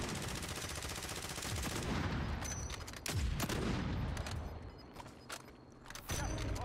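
Sustained automatic gunfire in Call of Duty Warzone rattles loud and close as shots are fired through a wall during a squad match, a dense stream of rapid cracks with brief shifts in intensity.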